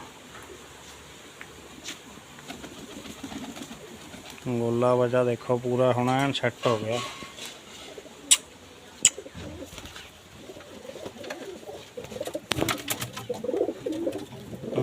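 Pigeons, including a blue pigeon and a black hen, coo in a close, rhythmic burst of repeated low calls in the middle, with someone talking before and after and a few sharp knocks.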